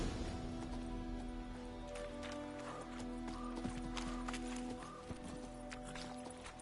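Hooves of Geralt's horse Roach from The Witcher 3 clip-clop in a fast, steady gallop, with a brief whinny, moderately close over a constant ambient game soundscape.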